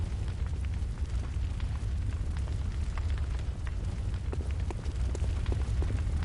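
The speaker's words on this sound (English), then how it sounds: "as you can see, the workshop is on fire now" Workshop burning in the Hunter's Dream in Bloodborne, a steady roaring crackle of fire with scattered pops, constant and fairly loud throughout with no speech.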